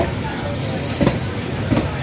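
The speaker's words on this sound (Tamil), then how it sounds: "நம்ம ட்ரெயின் வந்து கிளம்பிடுச்சு" Passenger train pulling away from a station in Tamil Nadu, a close, steady rumble with two soft clunks of the wheels, with no voices.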